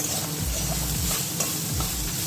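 Potatoes frying in a smoky pan, a dense close sizzle with scraping stirs of a utensil against the pan, steady and loud without any talk.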